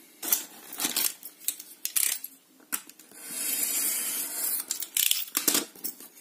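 Blade scraping and cutting through an envelope along a ruler, a series of close, brisk slicing strokes with one longer steady cut in the middle, no voices.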